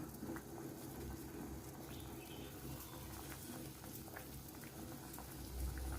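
A Thai mushroom curry with sea bass and red ant eggs bubbles at a quiet, steady boil in a pot, with soft popping and patter throughout.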